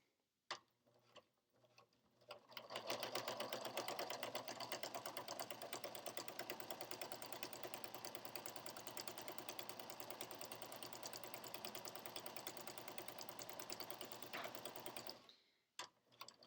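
A sewing machine stitches fabric binding onto a face mask, starting after a few quiet clicks and then running steadily with a fast, even mechanical rattle for about twelve seconds before stopping, close and alone.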